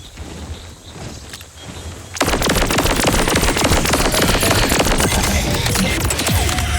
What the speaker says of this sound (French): C'est quoi ce sniper de fou là?